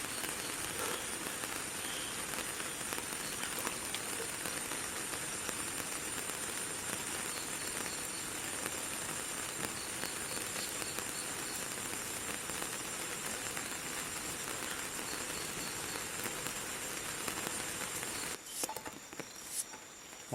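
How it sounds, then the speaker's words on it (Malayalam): Heavy rain pours steadily around a solo campsite, a dense continuous patter with faint chirping insects underneath, holding constant for most of the stretch before briefly breaking near the end. "മഴ നല്ല സ്ട്രോങ് ആയിട്ടാണല്ലോ വരുന്നത്"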